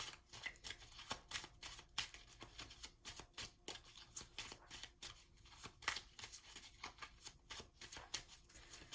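Tarot cards being shuffled by hand in quick, crisp riffling bursts that repeat steadily and sit close and clear, with no talking.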